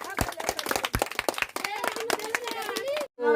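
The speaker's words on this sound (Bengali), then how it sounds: "সবাই হাততালি দিন।" An audience at a Bengali game contest claps in a quick, fairly close burst of scattered hand claps, with people talking over it and a short silence near the end.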